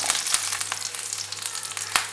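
Cumin, garlic and shallots sautéing in a pan give a steady, close sizzle with faint scraping stirs and a few sharper ticks, no voices.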